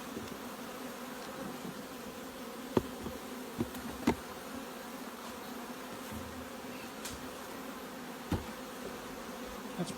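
Honey bees buzz around an open hive during a beekeeping check. The drone is steady and fairly quiet, with a few soft knocks and clicks from handling the hive and no voices.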